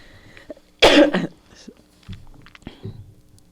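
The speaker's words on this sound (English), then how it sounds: "I had just coughed" A person coughs once, a loud, sharp burst close to the microphone during an indoor podcast conversation, followed by quiet shuffling and small handling noises.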